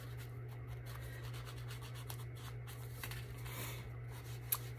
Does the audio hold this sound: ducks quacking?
no